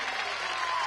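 A triathlon crowd claps in a short, dense burst of applause, steady and fairly faint, lasting under a second.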